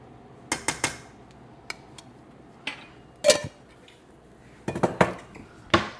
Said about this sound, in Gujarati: હું 1 ચમચી ઘી એડ કરું